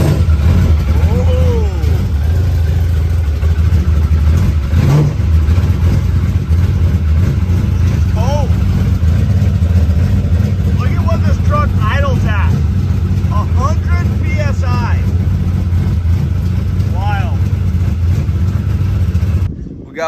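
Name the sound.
Toyota drift truck engine starting and revving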